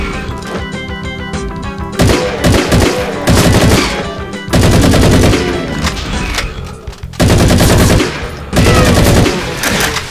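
Heavy automatic gunfire in the video game Meatball Machine, coming in loud, dense bursts separated by short pauses, with layered shots and impacts mixed into a busy game soundtrack.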